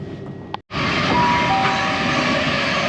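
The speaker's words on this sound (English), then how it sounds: "here's Hatfield Station." A train rumbles steadily at close range at Hatfield Station on the East Coast Main Line after a brief cutout, with a faint high tone from the track or brakes and no talking.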